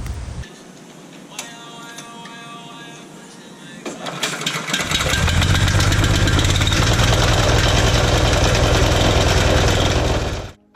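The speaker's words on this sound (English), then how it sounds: "I started with the grinder," A stump grinder starts up and bites into a backyard tree stump, building from a low idle into a loud, dense, continuous grinding roar that holds steady for several seconds before cutting off, heard close up.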